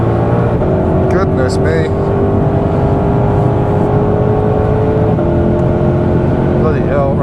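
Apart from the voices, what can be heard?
Shelby GT500 engine accelerating on the Goodwood track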